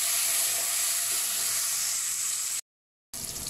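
Chopped onion and small tomato pieces sauté in a hot pan, making a steady broad sizzle and hiss that cuts out briefly and then returns, with no talking.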